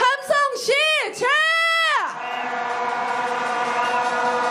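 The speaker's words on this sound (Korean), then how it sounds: "함성 시작." A crowd at the 73rd candlelight rally march lets out a collective roar. It opens with rising and falling shouted cries, then settles into a sustained, massed cheer that carries on steadily to the end.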